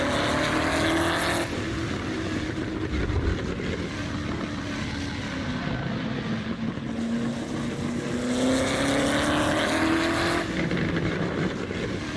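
Old-school American muscle car in the Assetto Corsa racing game, its engine droning loud and continuous with revs rising and falling through gear changes and no talk over it.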